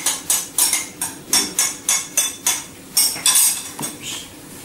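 Crepe batter being whisked by hand in a bowl after the rest of the flour is added, a loud, close, rhythmic clatter of the whisk striking the bowl in quick, steady beats.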